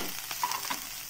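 Garlic frying in hot oil for a wheat beetroot momo filling, a steady close sizzle with faint stirring clicks, no voices.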